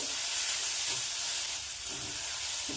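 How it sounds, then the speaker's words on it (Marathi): Steady sizzling hiss of ginger and garlic frying in hot oil with a pinch of asafoetida, continuous and close, with faint stirring underneath. "आलं लसूण देखील आपल्याला तेलामध्ये परतून घ्यायचे"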